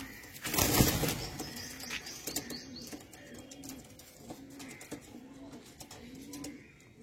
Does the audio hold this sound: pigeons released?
yes